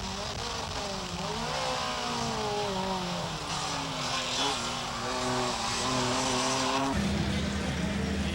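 Race cars lapping a short street course in Toronto during a 1999 Motorola Cup race with a 44-car field, engines roaring loud and continuous as several cars pass close with rising and falling pitch, one downshifting abruptly near the end.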